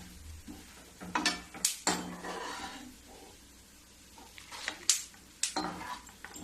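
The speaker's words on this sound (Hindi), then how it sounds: "अब इसको भी मैं निकाल लेती हूँ, क्योंकि खरबूजा के बीज भूनने में ज्यादा टाइम नहीं लगती है।" Roasted melon seeds scooped out of a hot pan in a home kitchen, heard as a few close scraping and rattling sweeps of a spoon against metal with soft sizzling between them.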